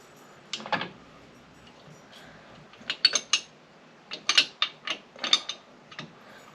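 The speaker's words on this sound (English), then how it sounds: "Grab the last of my wrenches out of here." Metal wrenches clank and rattle as they are pulled from a toolbox during work on a 1972 Harley-Davidson XLCH Ironhead motorcycle, a sparse series of sharp close clinks in bursts with quiet gaps between.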